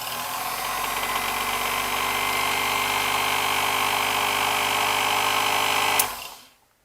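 A Speedex 9120RM compact key cutting machine motor, fitted with a replacement belt, runs with a steady, even hum and rattle for about six seconds, then switches off and spins down quickly to silence.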